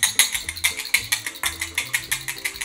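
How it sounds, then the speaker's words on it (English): A ball-tipped whisk beats batter in a bowl, clattering in a quick, steady rhythm of about five loud, close metallic strokes per second with no talking. "This actually whisked it together a lot faster, like a lot faster."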